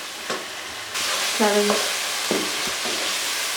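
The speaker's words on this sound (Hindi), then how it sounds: "अब हम 5 मिनट तक इसकी फिर भुनाई करेंगे, ताकि जो हमने इसमें मसाले डाले हैं वो अच्छे तरीके से भुन जाएं" Chicken with spices browning in a pan for chicken cholay, a steady close sizzle with a few soft stirring scrapes and a brief tonal clink partway through.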